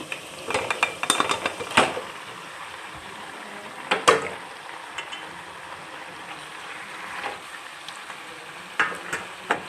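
A spoon stirs tapioca and beef together in a pot, with irregular scraping clinks and knocks of metal against the pot over a faint sizzle, close by and without talk.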